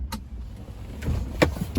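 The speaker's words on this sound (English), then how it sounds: "you also have the button to open that power sliding window there" Power sliding rear window of a 2022 Chevrolet Silverado opening inside the cab, a low steady electric motor whir with a few faint clicks, close and fairly quiet.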